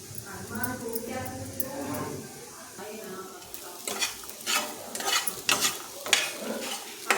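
Corn kernels with salt, chili and turmeric are stirred in a pan, with a clattering, scraping spoon in quick irregular strokes that grow louder toward the end while someone talks over it.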